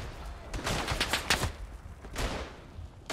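Machine gun fire in the Verdun World War I video game, several short bursts of rapid shots in quick succession, fairly faint, with no talking.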